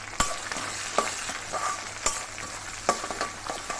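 Grated coconut frying and being stirred in a hot pan for South Indian Pallipalayam chicken fry, a steady sizzle with sharp scraping clicks of the spoon against the pan, close up with no speech.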